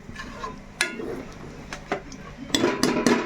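Metal lid set onto a cooking pot holding raw prawns and cucumber curry, a few sharp clanks and clinks up close, the last ones louder as the lid settles, with no talk.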